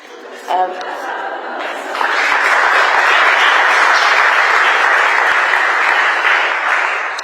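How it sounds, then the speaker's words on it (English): An audience at a book talk bursts into loud, sustained applause that swells after a brief burst of laughter and holds steady for several seconds, with scattered chuckles mixed into the clapping. "It's nice that you get a clap here."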